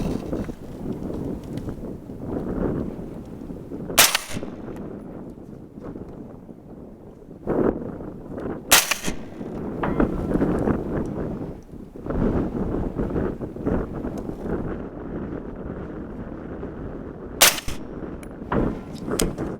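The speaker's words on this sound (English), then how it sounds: "So we're gonna do some standing and shooting off of this tire here." An MK12 SPR rifle fires 5.56 rounds at steel targets on an outdoor range in heavy wind: three sharp, loud shots spaced several seconds apart, with steady wind rumble buffeting the microphone in between.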